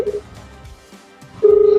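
A telephone ringing tone sounds briefly, pauses through a quiet gap, then rings again unanswered, with a steady electronic pulse heard through the line.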